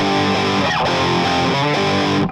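Loud PRS SE Mark Tremonti electric guitar with heavy distortion playing thick, buzzing chords that ring for a couple of seconds before cutting off abruptly.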